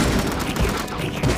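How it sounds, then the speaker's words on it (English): Dense machine gun fire in the zombie game Dead Ahead Zombie Warfare, a loud continuous rattle filling the short stretch with no pauses. "Machine gun!"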